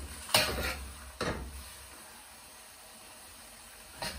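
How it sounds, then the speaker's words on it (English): Pak choi is stir-fried with a thickening corn flour sauce in a pan, with three short spatula scrapes and clanks against the pan over a faint background hiss. "Just stir fry, and watch"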